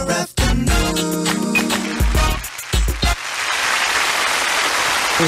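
Studio audience applause on a radio talk show breaks out after a stretch of music and thumps, swelling into a steady, dense wash of clapping that fills the last few seconds.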